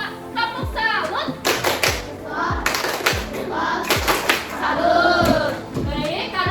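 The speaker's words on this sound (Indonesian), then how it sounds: "Kita tepuk salut dulu untuk kita semua." A school class performs the rhythmic 'tepuk salut' clapping routine, sharp patterned claps in a quick sequence while children chant along and a teacher's voice leads.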